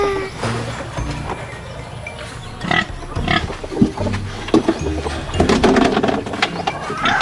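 Pigs on a farm grunt and squeal at feeding time, a busy mix of close animal calls that grows louder and more agitated toward the end, with some background clatter.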